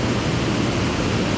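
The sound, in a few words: waterfall below Center Hill Dam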